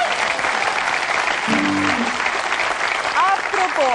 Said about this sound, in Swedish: vi måste också ge en stor applåd till husbandet!